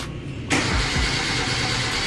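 A car engine cranks and catches after a fuel pump repair, then settles into a steady, loud, close idle.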